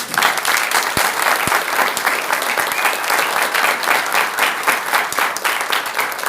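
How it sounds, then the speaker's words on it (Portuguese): Steady, full applause from a seated audience at a theology and science lecture, many hands clapping in a loud continuous patter with a few sharper individual claps. "A gente pode mostrar a nossa apreciação com uma salva de palmas"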